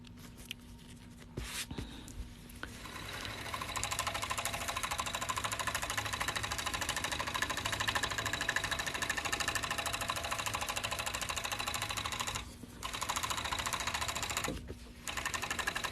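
A serger sewing machine runs in a steady, fast mechanical whir that starts after a short pause, with a few brief stops and restarts, close by and without talk.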